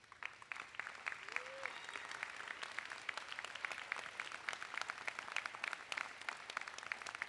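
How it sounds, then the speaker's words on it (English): Scholarship sponsors at an Astronaut Hall of Fame gala receive a round of applause from the room, moderately sized clapping with distinct individual claps audible, a bit distant and steady. "Let's give you a round of applause"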